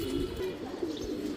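A tota pigeon coos up close, several low throaty calls in a rolling rhythm, loud and alone.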